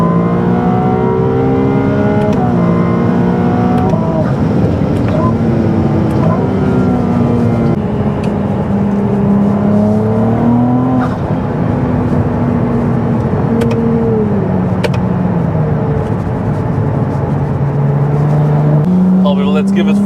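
An 830 hp Ferrari 296 revs hard on the Autobahn. The engine tone climbs and falls repeatedly in loud, continuous pulls that fill the whole stretch.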